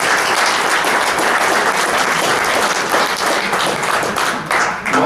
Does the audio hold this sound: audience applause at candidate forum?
yes